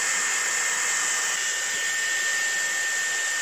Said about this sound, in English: My trusty Dyson airwrap.